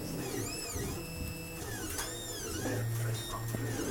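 A Solidoodle 3 3D printer runs close by, its stepper motors whining in rising and falling tones over a steady mechanical hum, with a low rumble joining near the end.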